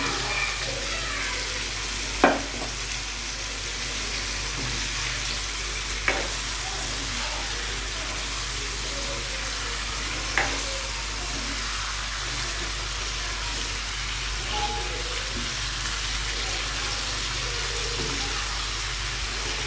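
Chicken stir-frying in spiced oil in a pan makes a quiet, steady sizzle, with a few faint clicks from stirring at intervals.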